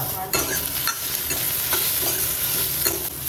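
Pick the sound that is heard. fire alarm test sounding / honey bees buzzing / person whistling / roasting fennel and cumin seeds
roasting fennel and cumin seeds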